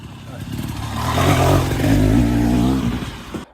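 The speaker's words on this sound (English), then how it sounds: "a couple of groups of motorcyclists were using the trail." A motorcycle on a mountain trail along the Continental Divide revs up nearby, its engine note swelling to a loud, rough, rising drone midway before dropping off. A voice talks over it.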